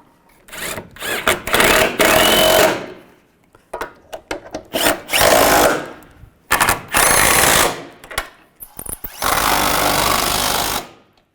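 Impact wrench or power driver tightening bolts on a 1998-2010 Volkswagen Beetle during radiator replacement, in several loud sustained whirring bursts of one to three seconds separated by short pauses, close up with no talking.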